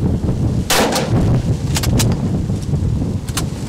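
Sharp gunshots crack out during a Montana hunt, a few separate reports spread across a few seconds over steady wind rumble on an outdoor microphone.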